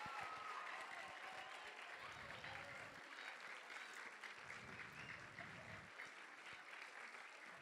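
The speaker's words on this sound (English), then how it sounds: "Let's give them one more round of applause." Sustained audience applause closes a stage performance of Romeo and Juliet in a theatre, a dense wash of clapping from a large crowd that holds steady throughout with faint voices mixed in.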